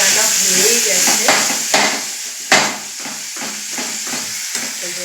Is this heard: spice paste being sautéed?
yes